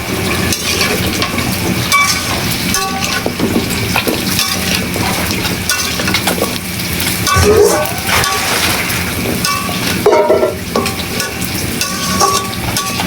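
Thick-cut sweet pumpkin chunks sizzle loudly in hot oil as a vegetable fry, with busy clattering stirs and scrapes in the pan, close up and continuous, with no talking.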